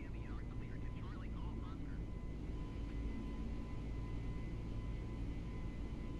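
An Airbus A32NX airliner flies in Microsoft Flight Simulator 2020, with the flybywire mod, on a route from São Paulo to Ilhéus in Brazil. A steady, low engine and airflow roar runs throughout, with a faint brief voice early on.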